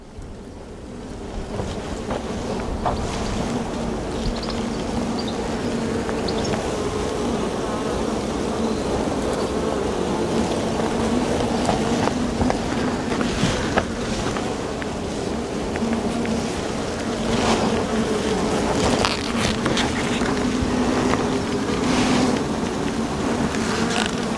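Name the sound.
agitated honeybees buzzing around an open hive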